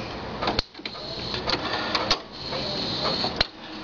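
Steady mechanical whirring and grinding from an Epson inkjet printer charging ink, with periodic clicks and clunks as the mechanism moves, continuous and fairly close.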